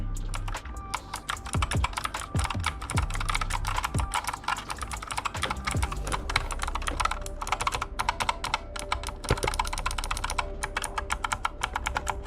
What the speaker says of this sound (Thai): เดี๋ยวผมลองพิมพ์ให้ดู